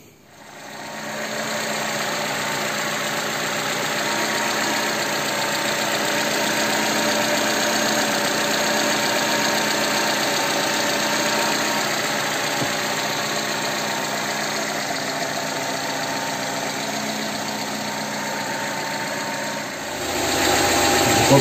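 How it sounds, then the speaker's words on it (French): A car engine running on E-flex fuel idles steadily and close for about twenty seconds, an even mid-pitched hum with a faint knocking vibration, then briefly shifts at the end. No one speaks over it. "Pas trop de peine s'il fait des bruits le moteur."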